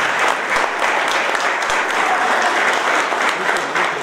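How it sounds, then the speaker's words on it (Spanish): Audience applause at a concert anniversary show, a dense, steady wash of clapping from many hands that fills the room for several seconds without a break. "Andrea, un aplauso para ella."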